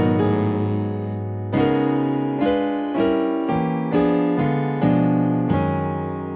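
Piano playing a busy diminished chord movement over the five chord that resolves back to the one: a run of full, rich chords struck one after another every half second or so, each left to ring. Close and alone, no talk.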